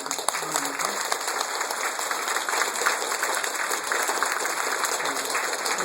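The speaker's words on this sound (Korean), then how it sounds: "뜨거운 박수로 한번 네." Sustained applause from a church congregation at a pastor's installation service, a dense, even patter of many hands clapping, loud and continuous throughout.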